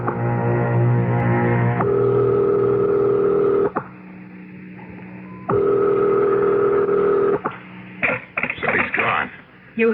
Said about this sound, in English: Dial. I'll call his private number.